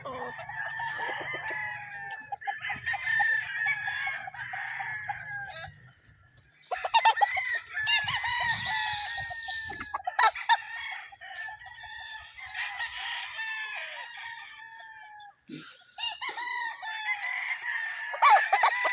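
Stags and cockerels at a poultry farm crow repeatedly, the long calls overlapping from several birds at middling distance, with clucking in between and brief quieter gaps.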